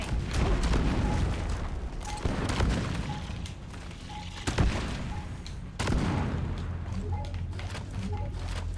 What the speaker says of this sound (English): I heard my turret shot